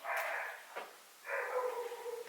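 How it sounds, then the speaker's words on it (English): A dog barks a few times in the background, two sustained bursts separated by a short pause, moderately loud with no talking. "So there's a dog in the background."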